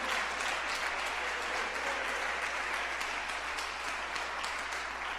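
A church congregation claps together in a continuous wash of applause. It is even and sustained, slightly distant, with a low hum underneath.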